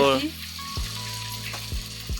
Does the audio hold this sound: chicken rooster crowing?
no